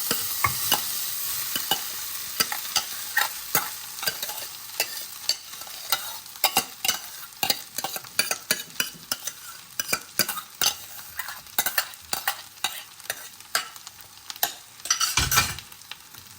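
Rice and garlic fry in a pan while a spoon stirs and scrapes repeatedly, sharp close scraping strokes over a continuous sizzle, with a louder clatter near the end.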